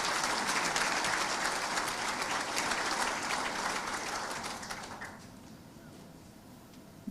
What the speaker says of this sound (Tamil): அதற்கு உங்களுடைய கை கரகோஷம் நடைபெறுகிறது